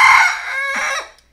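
A Rhode Island Red rooster gives one close, loud crow, a bright strained call that holds, dips and rises again before cutting off.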